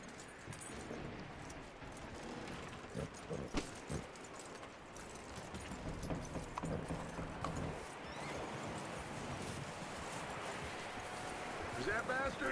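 Horse hooves clip-clop steadily in Red Dead Redemption 2, with an occasional whinny, under voices talking in a busy game scene.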